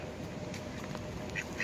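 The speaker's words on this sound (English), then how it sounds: "Duck." Ducks quack at Lake Park on the Abu Dhabi Corniche, a few short quacks over a steady outdoor background.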